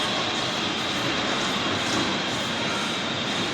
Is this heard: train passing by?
yes